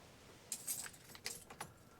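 A set of car keys on an original GM key ring for a Box Chevy jangles in a few quick, faint metallic bursts close by, with no talk.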